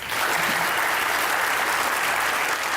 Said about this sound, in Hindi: अपने लिए तालियां बजाएं प्लीज